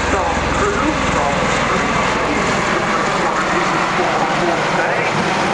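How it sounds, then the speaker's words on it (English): An MV-22 Osprey tilt-rotor aircraft takes off at an air display, a loud, dense, continuous rotor and engine roar filling the whole clip, with a commentator's voice faintly under it. "As you saw, this is a tilt-rotor aircraft"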